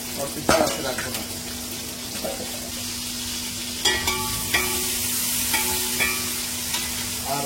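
Onions frying in oil in a pot for bhuna khichuri give a steady soft sizzle, with occasional stirring scrapes and clinks over a faint hum.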